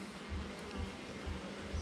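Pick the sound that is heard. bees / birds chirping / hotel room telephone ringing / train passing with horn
bees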